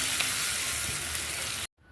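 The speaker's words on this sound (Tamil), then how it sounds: "இப்போ ஸ்டீம் பண்ணி வச்சுருக்கிற பாவக்காய் சேர்த்துக்கலாம்." Steamed bitter gourd goes into a pan with frying onions, a bright steady sizzle and hiss that stops abruptly near the end, followed by faint quieter background.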